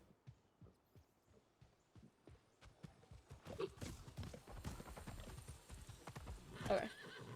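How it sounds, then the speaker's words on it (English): In the video game Palia, a horse's hooves clip-clop in a steady trotting rhythm that quickens and grows louder, with a whinny near the end, all fairly faint. "I am now on a horse."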